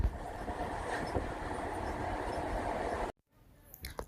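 A train rumbles steadily along the rails through the Thar Desert for about three seconds, a dense continuous roar that cuts off abruptly into near quiet.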